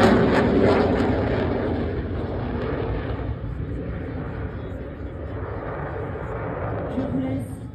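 A Dassault Rafale fighter jet performs a solo flying display at an air show, its engine roar loud and broad at first, then easing slightly and holding as a continuous rumbling rush.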